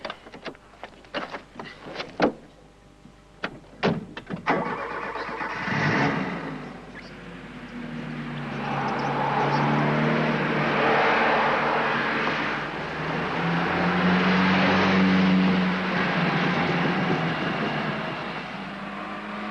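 A Porsche touring car on a country road gives a few sharp clicks, then its engine rumble builds and holds as it drives off steadily, fairly loud and with no voices.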